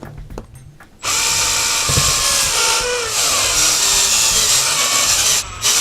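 A power screwdriver drives screws into an RC rock buggy chassis, a loud close-up whirring buzz that starts abruptly after a second of light handling noise and runs steadily for several seconds before cutting off briefly.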